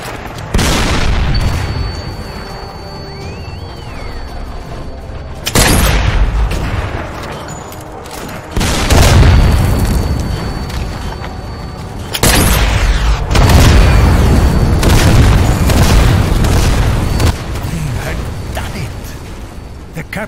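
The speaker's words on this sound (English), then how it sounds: "Captured artillery destroyed the tank and bought us another chance." Heavy artillery rounds in the Sniper Elite VR game hit a tank, several loud booming blasts at intervals, each followed by a rumbling decay, with faint game sounds between.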